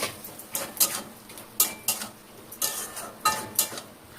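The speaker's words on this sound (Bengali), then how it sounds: "এবার আমি আলুগুলো দিয়ে দিচ্ছি।" Potatoes frying in spiced oil with cumin and coriander powder for alur dom are stirred in a pan. A spoon scrapes and clinks in rhythmic strokes over a steady sizzle, close up and with no talking.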